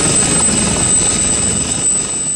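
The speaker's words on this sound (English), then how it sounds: "3 police helicopters took off from the Croat capital, Zagreb" Police helicopters lifting off from Zagreb, Croatia produce a loud, steady rotor and engine roar that fills the whole stretch, with a constant high whine on top and no voices.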